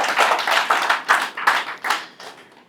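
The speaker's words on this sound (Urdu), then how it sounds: "تو پلیز تھوڑا تالیاں بجائیں" Audience at a company event for Kiffayat Jafri Construction Services applauds in steady, close, lively bursts of hand claps that swell and ease over about three seconds, with no talking.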